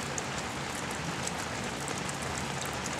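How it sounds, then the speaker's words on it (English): Steady rain falling outdoors on a wet day, a dense, even hiss of drops that holds at the same level throughout with no voices over it. "it is still raining"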